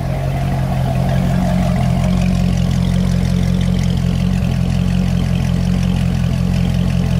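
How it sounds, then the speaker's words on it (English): A Corvette C6 Grand Sport engine idles steadily up close, a constant low rumbling purr with no voices. "Engine's pretty quiet."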